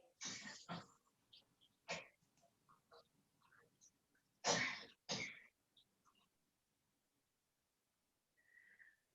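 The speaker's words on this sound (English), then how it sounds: "I don't know who's coughing." Several sharp coughs and throat clearings from one person burst out in clusters during a quiz, fairly close, separated by quiet gaps with faint ticking in between.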